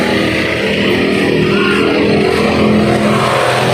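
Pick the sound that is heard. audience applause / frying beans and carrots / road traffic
road traffic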